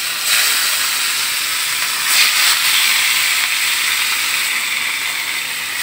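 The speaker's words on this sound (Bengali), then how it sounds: "এরপর আমরা মাছটাকে ভেজে মাছগুলোকে কড়াইয়ে দিয়ে দিব" Chital fish belly pieces hiss loudly in hot oil in a wok, a dense, steady sizzle close to the microphone that swells slightly partway through.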